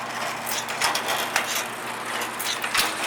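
A Bivans Model 50 Tuck-o-Mat carton erector runs with a steady mechanical clatter of gears and ratcheting parts, plus regular louder clacks as it cycles.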